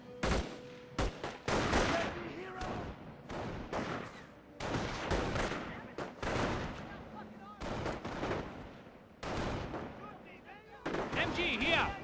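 Dense rattling gunfire and machine-gun bursts fill a battle in the World War II strategy game Company of Heroes: Opposing Fronts, loud and nearly continuous with short breaks, while soldiers shout over the shooting.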